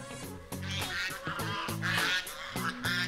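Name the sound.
geese honking near a goose herder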